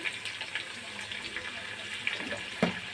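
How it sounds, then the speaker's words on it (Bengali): Cut potatoes fry in hot oil seasoned with a little salt and turmeric, giving a steady close sizzle with scattered crackles and pops. "তেলের মধ্যে কেটে রাখা আলুগুলোকে ভালো করে ভেজে নেব"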